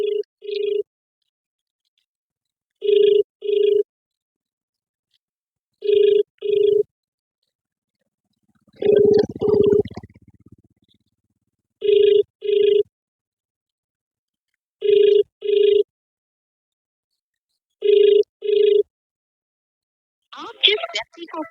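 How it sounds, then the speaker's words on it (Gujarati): Telephone ringback tone on an unanswered call to a village sarpanch, repeating in regular double-pulse bursts about every three seconds, loud and clear, with a brief burst of speech around the middle and at the end. "અંધાત્રીના સરપંચશ્રીને આપણે ફોન કરીએ છીએ"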